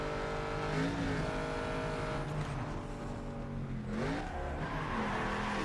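Race car engine in Need for Speed: Underground 2 holding a loud, steady drone, its pitch dropping and climbing again with each downshift through the corners, with no voices.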